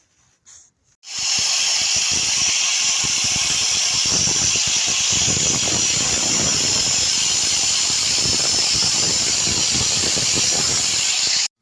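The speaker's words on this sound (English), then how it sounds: "I just need to angle grind it" An angle grinder grinds down a weld on the kickstand of a Honda Vision moped, giving a harsh, steady, close-up hiss and screech that runs nearly ten seconds without a break.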